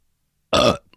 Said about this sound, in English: That was a very nasty, wet-sounding burp.